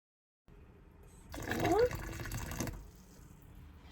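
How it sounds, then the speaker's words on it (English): A short stream of water pours into a pot, splashing close by for about a second before tapering off into quiet. "Every 30 seconds, I'm adding more water"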